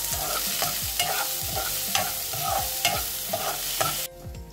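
Onions and green chillies fry in hot tempering oil while a spoon scrapes and stirs them in a rhythmic series of close strokes over a continuous sizzle, then the sound stops abruptly.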